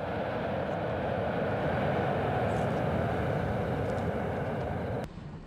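Steady, loud drone of an airliner cabin during a 17-hour flight to the United States, a continuous engine roar that drops in level abruptly near the end, with no talk.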